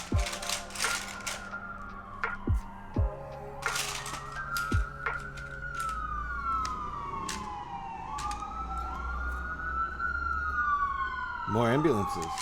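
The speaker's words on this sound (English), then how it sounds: "More ambulances." Wailing sirens rise and fall continuously, several overlapping as emergency vehicles pass, with sharp clacking and tapping sounds scattered throughout.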